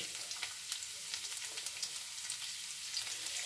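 Garlic sweats in hot oil in a pan, a close, continuous crackling sizzle with small popping spatters and no voices.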